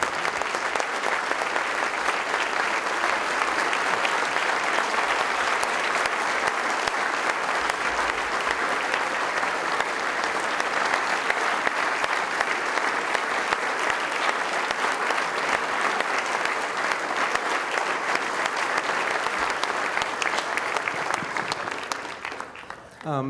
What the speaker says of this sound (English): Let us all stand and give Chris a round of applause for a job well